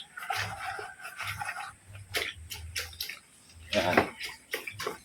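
Tawa-tawa, the asthma plant, is washed in water: soft splashing, dripping and handled leaves rustle in irregular bursts close by, with occasional light clinks of a container.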